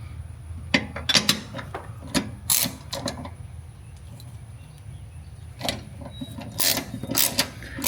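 Hand wrench clicking and ratcheting in short bursts while a 13 mm exhaust hanger nut is loosened and removed on a BMW G80 M3, close and fairly faint with quiet gaps between the bursts.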